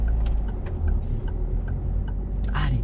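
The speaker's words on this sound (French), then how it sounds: "on met notre clignotant" Inside a driving-school car, a turn signal indicator ticks in a steady, regular rhythm over the low hum of the engine and road noise, close and fairly clear.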